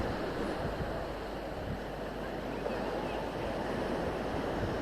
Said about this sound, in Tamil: காற்றழுத்த தாழ்வு மண்டலம் காரணமாக சென்னையில் கடல் சீற்றத்துடன் காணப்படுகிறது